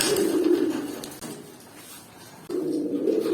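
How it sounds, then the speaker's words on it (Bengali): A male pigeon coos up close in two deep, throaty bursts separated by a brief quiet gap. "প্রথমে কাজ করা কবুতরটা বাইর করে দেখাই।"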